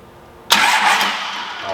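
A Cummins diesel engine on a shop floor bursts into a sudden loud crank after a brief quiet moment, then holds a dense, rough roar that fades slightly over the next second.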